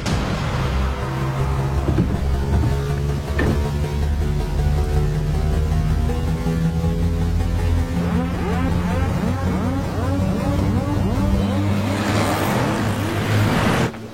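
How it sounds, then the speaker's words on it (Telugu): Mahindra Scorpio SUV revving loudly and sweeping past at close range, a steady engine roar with rising and falling pitch sweeps, under a dense music score. "మధుర స్కార్పియో హాస్పిటల్ లోపలికి వెళ్ళకుండా స్ట్రైట్ గా వెళ్తుంది"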